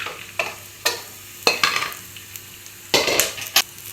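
Field beans being stirred and roasted in a pan, a spoon scraping and clattering in irregular bursts with a faint sizzle between strokes, close up.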